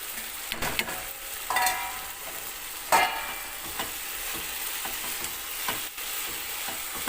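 Brinjal bharta with kasuri methi and garam masala roasting in a pan, giving a steady close sizzle broken by the scrape of a spatula stirring, with a few sharper clatters and no voices.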